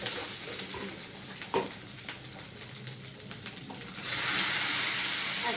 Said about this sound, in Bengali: এখন দিয়ে দিব এখানে খিচুড়ি আর একটু ভেজে নেই